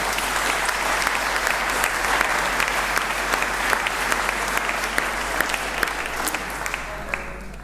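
A large audience at a Leipzig University graduation ceremony keeps up steady, full applause throughout, with a low hum underneath and the clapping easing slightly near the end.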